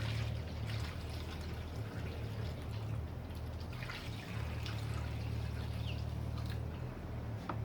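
Fuel glugging steadily from a 2-litre bottle into the big tank of a Honda CB350F motorcycle, a continuous close pouring splash that runs unbroken throughout.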